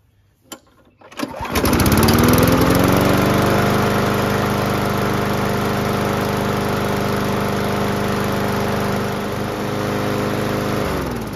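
A Murray Select 22-inch push mower with a 4.0 HP Briggs & Stratton engine pulls to life and settles into a loud, steady running drone that continues nearby without letup.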